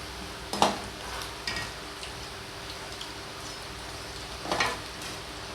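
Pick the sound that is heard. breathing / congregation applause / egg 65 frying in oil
egg 65 frying in oil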